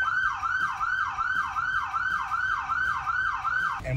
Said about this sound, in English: Another form of the siren called the Yelp